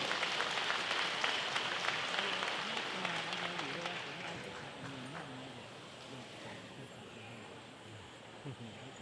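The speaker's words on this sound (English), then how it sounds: "So let's give a big round of applause for our mayor." An audience applauds the mayor of Madison at an outdoor celebration of 50 years of Hmong in America. The applause is steady and broad, then gradually fades, and voices can be heard faintly underneath.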